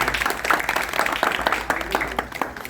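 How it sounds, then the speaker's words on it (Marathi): Audience clapping for a woman receiving an award at a social foundation's prize ceremony: a dense, moderately loud burst of applause from a crowd lasting a few seconds. "स्वाती काकींसाठी टाळ्या वाजवसाठी"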